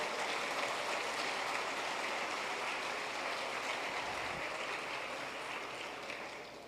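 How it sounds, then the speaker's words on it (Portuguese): A church congregation applauds the word of the Lord during a Portuguese-language sermon, a steady, dense wash of clapping that holds for the whole stretch at moderate distance, with no talking. "Vamos aplaudir a palavra do Senhor bem forte"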